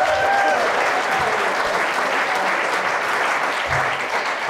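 Audience applause at a live oral history event, a full, sustained round of clapping from a sizable crowd, steady and loud from start to finish.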